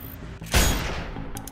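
A gunshot in Sniper Ghost Warrior 2 rings out as one loud, sharp blast that rolls into a broad, decaying boom, with a faint second report near the end.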